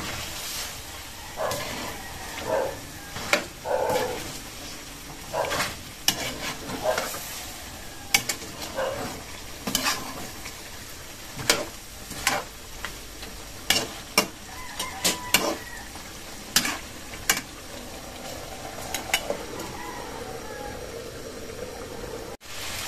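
Chicken adobo stirred in a pan, a utensil scraping and clacking in irregular strokes over a soft, steady sizzle, with no talking.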